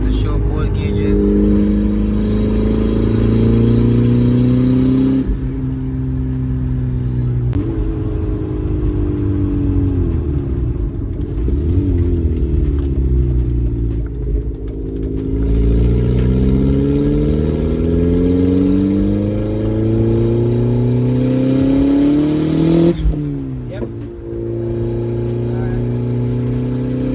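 A car engine revs hard under turbo boost, with repeated rising and falling pulls close up and loud, a short lull near the middle, a sharp spike near the end.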